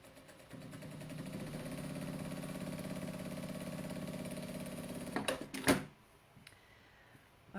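A domestic sewing machine stitches a quarter-inch seam on a fabric project bag, making a steady mechanical whirr for about five seconds before stopping, followed by brief clicks and handling noises.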